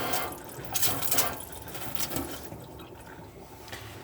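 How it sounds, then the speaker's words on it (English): Water pumped from an aqua roll runs from the taps of a 2007 Sterling Europa 470 caravan, a close, broadband rushing gush with uneven surges as pressure builds, alone without talk. "Once the water's coming out of all the taps continuously"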